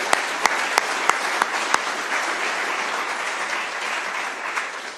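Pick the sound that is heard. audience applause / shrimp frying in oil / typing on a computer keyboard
audience applause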